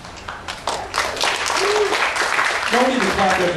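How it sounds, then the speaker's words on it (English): Audience at a convention panel clapping in a rising burst, with voices and laughter from the crowd and people talking over the applause. "No need to clap at everything I say."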